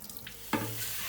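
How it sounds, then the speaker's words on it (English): Water splashes as feijoada beans are washed in a sink, with a few faint stirring rattles and then a sudden stream of running water that continues steadily to the end. "Next, wash the beans a few times"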